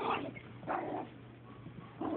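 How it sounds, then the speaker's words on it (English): A small dog gives a few short whimpers and yappy barks in separate bursts, close by and fairly loud, with no talking. "Oh, you're just such a vicious little dog."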